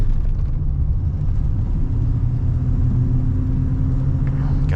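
Steady low engine rumble and road noise from inside a 1999 Chevy Silverado Z-71 regular cab truck as it drives, constant and fairly loud with no talking.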